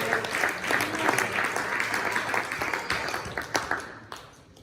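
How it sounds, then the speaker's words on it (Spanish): A church congregation claps together, a dense spatter of hand claps at moderate distance that holds steady for several seconds and then thins out toward the end. "Denle palmas fuertes al Señor."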